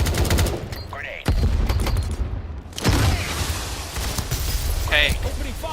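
Rapid gunfire bursts from a competitive video game match keep going throughout, with a few heavier booms, while excited casters talk over the shooting.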